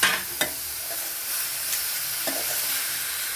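Boiled ivy gourd tipped into a hot pan and stir-fried with mustard seeds and grated coconut, a steady bright sizzle with a couple of sharp clinks of the spoon against the pan near the start.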